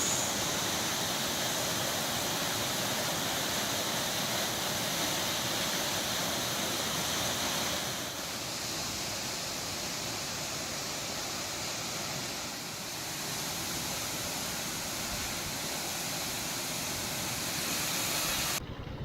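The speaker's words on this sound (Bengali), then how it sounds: "ন্যাচারাল ঝর্ণা" A natural waterfall in the hills, heard on a rainy ride, as a broad steady rush of falling water, loud and continuous with no voices.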